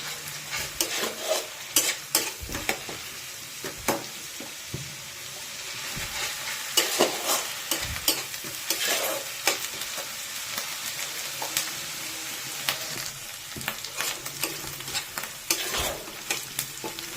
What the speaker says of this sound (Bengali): পেঁয়াজ রসুন ভালো করে ভাজা হয়ে গেছে।